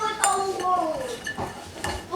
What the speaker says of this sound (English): I like to clean my dirty dishes so that I don't have dirty dishes in the sink